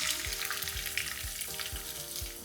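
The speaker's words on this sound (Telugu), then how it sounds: "ఉల్లిపాయలు మంచిగా వేగనివ్వాలి" Chopped onions and a green chili frying in hot oil with cinnamon, cardamom, shahi jeera and cloves, a steady close sizzle with soft rhythmic stirring thumps, no voices.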